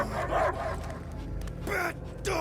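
Cosmo the dog, a space-faring canine in a Guardians of the Galaxy game, lets out a few loud, close yips and barks in two short bursts over a low rumbling game score.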